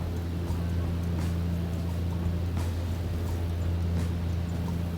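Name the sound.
loud BN-2 Islander aircraft engine in flight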